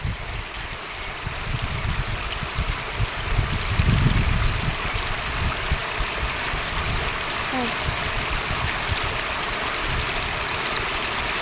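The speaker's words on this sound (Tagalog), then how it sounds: "Masilig po yung tubig" Strong river current rushes and churns around a small boat stuck in fast water while a fishing net is set, a steady broadband wash with low rumbling surges throughout, swelling briefly near the middle.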